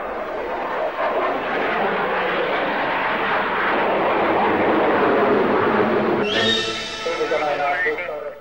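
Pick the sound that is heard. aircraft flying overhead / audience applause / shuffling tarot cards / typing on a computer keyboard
aircraft flying overhead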